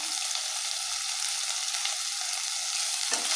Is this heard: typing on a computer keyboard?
no